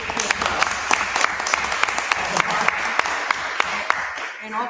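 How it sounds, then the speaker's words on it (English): An audience at a city council meeting applauds a city employee with a sustained round of clapping and sharp individual claps, while a voice talks over it. "I'd like to give her a little applaud for the job well done."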